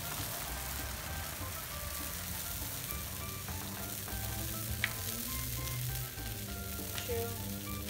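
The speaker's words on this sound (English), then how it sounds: "Okay, so let's throw in our tortillas in." Tortillas dropped into hot oil in a pan for birria tacos give a steady, dense sizzle and crackle that runs close and fairly loud throughout, with no talk.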